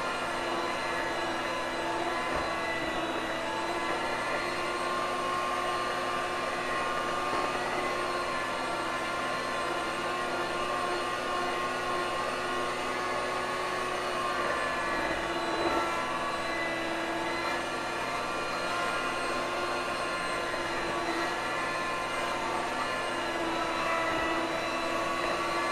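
An electric mixer runs steadily on a higher speed through pumpkin cheesecake batter, a constant close whirring drone with a mechanical hum that holds unchanged throughout, with no voices over it.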